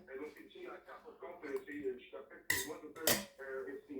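A spoon clinking and scraping against a dish for the last spoonful, two sharp metallic knocks amid quiet talk from a nearby voice.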